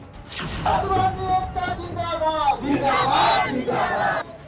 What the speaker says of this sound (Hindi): गूंजते नारे